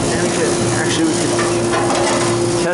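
A condenser fan motor on a convenience store roof runs steadily with a constant hum and rushing airflow, loud and close, with no talk.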